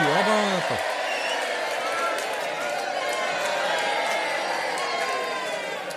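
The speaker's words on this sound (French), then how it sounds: "Allez, on applaudit." A small studio audience applauds and cheers after a correct quiz answer, a steady wash of clapping with a few whoops, while a voice talks at the start.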